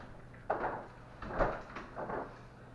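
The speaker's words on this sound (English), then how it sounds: "Let me close the door." A door swings shut indoors with a few soft knocks and thuds spread over a couple of seconds, quiet and close by, with no talking.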